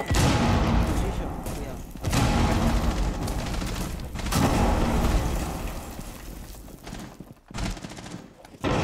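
Rainbow Six Siege grenade blast in a ranked match: loud broadband bursts around 0, 2 and 4.3 seconds, with game-action noise continuing between them and a player talking over the top.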